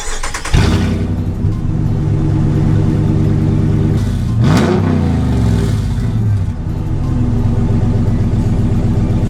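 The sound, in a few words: Ram 1500 5.7 Hemi engine revving with no exhaust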